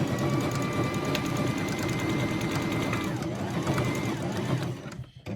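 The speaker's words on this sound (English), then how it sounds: "Right, so I'll do one manual stitch." Domestic sewing machine stitching a lavender sachet, a steady, close mechanical whir with a rapid needle rhythm that runs continuously before stopping abruptly near the end.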